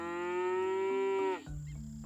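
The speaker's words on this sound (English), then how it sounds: "The stupid cow won't let me pass." A cartoonish cow lets out one long, loud, steady moo in the Scott Whiskers game, then it drops off sharply and gives way to low background game sound.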